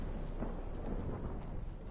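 Thunderstorm in The Witcher 3, a dense steady wash of rain with low rumbling thunder, fairly faint and continuous with no distinct claps.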